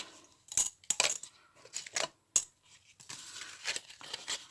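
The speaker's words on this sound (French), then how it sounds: "on va prendre notre enveloppe, style enveloppe américaine" Handling an American-style paper envelope, a series of sharp crisp rustles and crinkles with short pauses between them, close and fairly quiet, with no talking.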